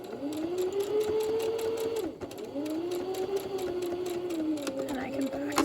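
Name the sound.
sewing machine stitching wrap pants placket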